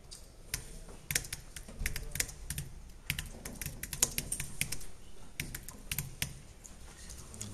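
Steady, uneven clatter of keystrokes on a computer keyboard as a title is typed into an InDesign page layout, close and fairly loud with no voices.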